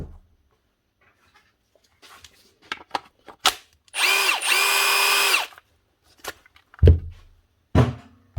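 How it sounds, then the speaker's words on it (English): A few clicks and taps, then a faulty Milwaukee brushed cordless drill whirs for about a second and a half before stopping; more handling knocks follow. "It's the tool or the battery? Looks like the tool."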